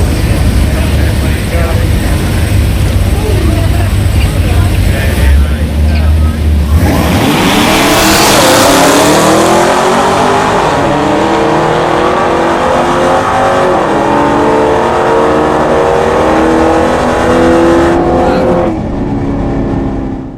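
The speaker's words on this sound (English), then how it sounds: "I did go to the drag strip once" A loud car engine idles, then roars as the car launches hard down a drag strip and accelerates away with rising revs and gear changes, fading at the end.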